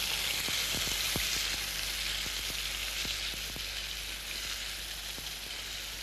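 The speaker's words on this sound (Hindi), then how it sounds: "तेल पूरी तरह से गर्म है। अब ये चिकन के पीसेस हम रख देते हैं।" Chicken pieces fry in hot oil, a dense, even sizzle with scattered crackles and pops, heard up close and alone without any voices.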